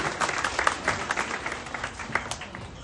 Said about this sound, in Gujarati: તો એમને બી તાળીઓથી આપણે વધાવી લઈએ